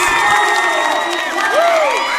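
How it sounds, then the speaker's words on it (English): A loud high school crowd at a competitive dance meet cheers for St. Charles East dancers, a dense sustained roar of shouts and high whoops close by, with no break in the noise. "So I think the loudest fan section of the day definitely goes to St. Charles East."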